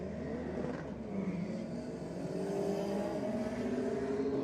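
A Honda CR-V and a BMW at a drag race, with engines droning and revving as the cars launch. The sound is moderately loud and rises steadily, with no talking.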